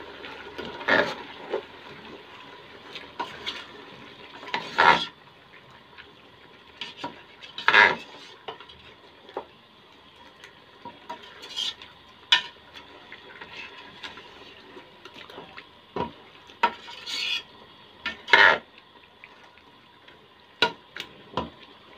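A spoon works through a beef nihari mixture in a pot, scraping and clinking against the metal in scattered, irregular strokes with quiet gaps between, close and alone.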